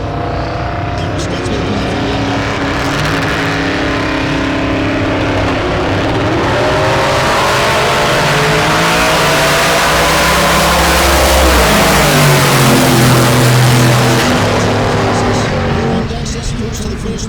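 Drag racing cars at Tulsa Raceway Park roar loudly down the strip, engine pitch climbing and sweeping as they accelerate and pass. The noise swells to a peak before easing off near the end, with a commentator talking over it.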